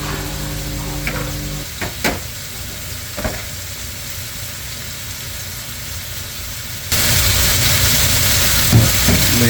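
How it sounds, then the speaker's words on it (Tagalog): Pork adobo sizzles and fries in a pan while being stirred, steady crackling with a few sharp scrapes and knocks of the utensil, then the frying grows louder and brighter near the end. "Haluin lang natin ng haluin."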